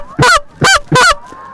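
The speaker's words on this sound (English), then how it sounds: "New York goose hunting at its finest here." Geese honk loudly during a New York goose hunt, three strong calls in quick succession close by, with a faint fourth after them and no talking.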